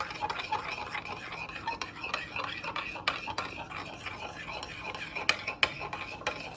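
A spoon stirs minced garlic sauce in a bowl, giving a steady run of light scraping and clinking taps close up at low volume.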